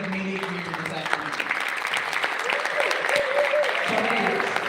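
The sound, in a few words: audience applauding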